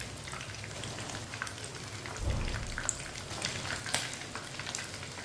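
Chicken pieces frying in a pan give off a steady, soft sizzle and crackle with fine popping throughout, at a low, even level with no voices.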